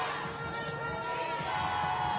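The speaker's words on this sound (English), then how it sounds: "I'm sure she's hearing that support and that cheer from the crowds" Crowd noise from the stands at a women's T20 cricket match between India and Australia, a steady roar of cheering voices held at a distance with no single sound standing out.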